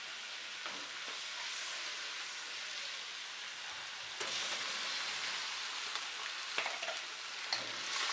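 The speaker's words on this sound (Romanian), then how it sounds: "Am pus 50 de grame de unt în wok." Fifty grams of butter frying in a wok gives a soft, steady hiss and crackle that swells slightly partway through, faint and continuous, with no voice.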